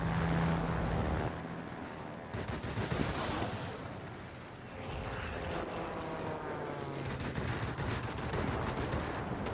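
Rapid aircraft machine-gun fire in the World of Warplanes combat game around a Spitfire XIV, with dense crackling bursts over a constant engine drone and a brief whistling swoop, loud and continuous throughout.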